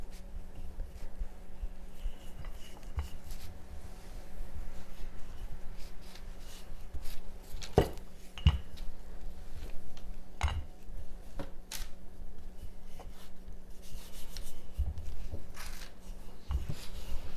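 A rolling pin works buttery, flaky pie dough into a rustic circle for a blueberry galette, making a soft, steady rubbing and pressing with a few light knocks, quiet and close, with no talking.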